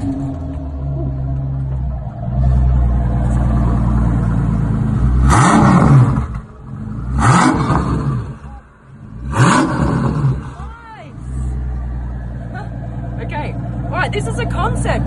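A Maybach Exelero concept car's engine is started and revved hard, with three loud rising-and-falling bursts over a steady rumbling idle, heard up close from inside the car.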